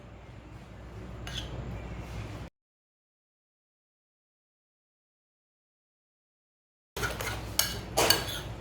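A spoon stirs ground red chilli, turmeric and cumin powder into a mixture in a bowl. Quiet, brief clinks and scrapes come in two short bursts, separated by a long stretch of silence.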